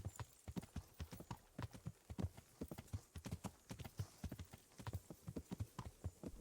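Horse hooves clip-clop in Kingdom Come Deliverance, a steady rapid rhythm of sharp hoof strikes at a trot, close and continuous throughout.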